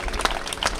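An audience at a university political event claps in a brief burst of dense, close applause, with a few sharper individual claps standing out.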